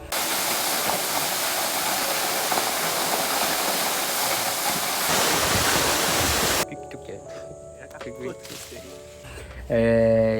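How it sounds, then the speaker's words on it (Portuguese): Waterfalls deep in the Amazon rainforest at Presidente Figueiredo make a loud, steady rushing roar for several seconds. The roar then cuts off abruptly and gives way to quieter, mixed sounds. "Eu fui para cachoeiras lindíssimas que eu jamais imaginava que existiam essas cachoeiras bem no meio da floresta amazônica."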